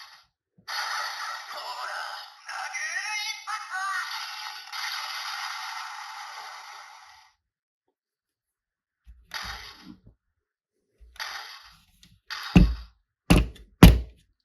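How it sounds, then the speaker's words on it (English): Final attack sound effect from the DX Tega Nagaru transformation toy, a stretch of electronic tones and effects followed after a pause by several sharp clunks and bursts. "Let's go ahead and do the final attack sound."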